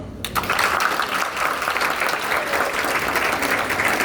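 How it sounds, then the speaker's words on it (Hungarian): Audience at a Hungarian folk dance gathering bursting into dense, loud applause after a sharp start, holding a steady full round of clapping to the end. "Nagy taps."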